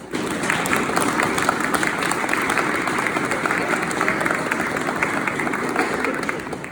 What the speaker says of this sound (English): The applause sounds really interesting when it's muffled with the gloves on everybody's hands